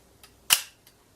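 A loud single shutter click from a 1978 Zorki 4K rangefinder camera, a sharp close snap preceded and followed by faint softer mechanical ticks.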